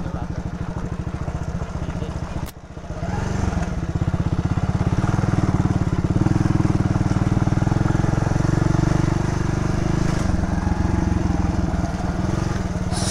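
A motorcycle engine runs close by on a village road near a bridge, a loud, steady low rumble with a brief dip and a sharp knock early on, then a sustained drone.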